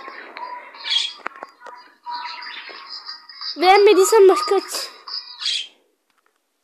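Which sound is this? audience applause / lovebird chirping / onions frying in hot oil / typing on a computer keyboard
lovebird chirping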